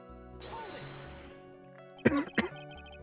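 A cartoonish cough effect from the Phoenix Wright: Ace Attorney – Justice for All courtroom game, two quick rough bursts over a soft musical background.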